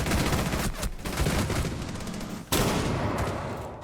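Continuous gunfire in a first-person shooter video game as a player fires through a wall: dense, loud rapid shots, with a brief dip before a fresh burst near the end.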